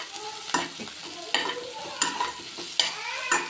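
Onions frying in a pan for chutney, a steady close sizzle broken by regular spatula scrapes and knocks roughly every second as they are stirred until browned.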